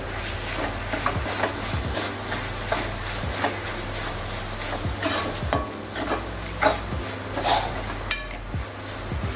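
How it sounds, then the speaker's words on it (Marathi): Dry prawn chutney with raw mango being stirred in a hot pan, a soft sizzle under repeated clinking scrapes of a spoon against the metal at an uneven, busy rhythm, close and with no talking. "मिक्स करूया।"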